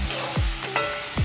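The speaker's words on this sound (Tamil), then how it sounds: "சேர்த்து நல்லா இந்த மசாலாவோடு சேர்த்து நல்லா வதக்கி விட்டுக்கலாம்." Chicken sautéing with masala in a pan for Chettinad chicken gravy: a steady sizzle and frying hiss with a few scraping stirs of a spoon against the pan.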